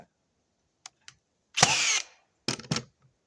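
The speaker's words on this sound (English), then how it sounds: "let's nail another one to it, just out of just for kicks" A Metabo NR1890DC cordless framing nailer drives a 3-inch nail into beveled wood: a few faint clicks, then a loud sharp burst of the firing, followed by two more quick mechanical bangs close by, with no talk.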